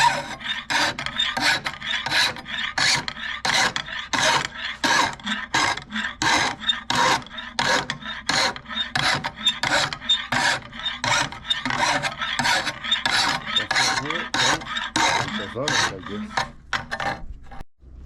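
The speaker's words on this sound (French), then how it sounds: "Ça va me donner l'angle parfait pour sabler mon couteau." Hand sanding of a homemade chef's knife blade slid along an angle guide, a close, loud rasping scrape repeated in a quick, steady back-and-forth rhythm for the whole stretch before stopping abruptly.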